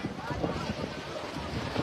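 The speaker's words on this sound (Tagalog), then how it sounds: "Grabe kusuga sa hangin guys." Strong wind in Oroquieta City buffets the microphone in a steady, rough roar with gusty surges, loud and close for a couple of seconds, a voice faintly mixed in.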